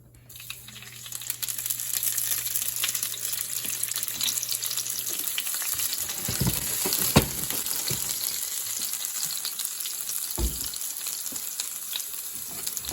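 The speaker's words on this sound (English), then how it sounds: "we're gonna start out with a little oil." Extra virgin olive oil sizzling in a pan, a steady dense hiss that starts after a quiet moment, with a few stirring knocks partway through.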